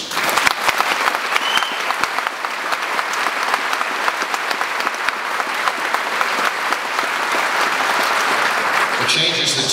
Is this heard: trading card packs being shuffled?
no